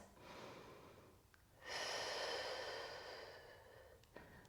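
Slow, deep breathing during a held thigh stretch in a strength workout, one long soft exhale followed by a stronger steady breath, close and quiet with no talking.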